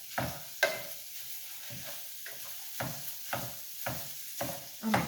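Ground turkey browns in a pan while a utensil presses and scrapes it, giving a soft sizzle broken by regular, fairly close stirring strokes about every half second, with no talk.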